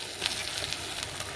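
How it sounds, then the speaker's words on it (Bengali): Onions frying in a pan as they get stirred, a steady close sizzle with light scraping and ticks running throughout, no voices over it. "এদিকে কিন্তু পেঁয়াজটা আরেকবার নাড়াচাড়া করে নিচ্ছি"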